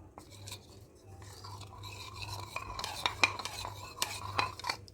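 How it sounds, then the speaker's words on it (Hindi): A spoon stirs custard mixture in a pot for Eid shahi tukray, giving a steady run of soft scrapes and light clinks against the metal that build in loudness toward the end, with no other sound. "इसको अच्छी तरह से मिक्स करते हैं"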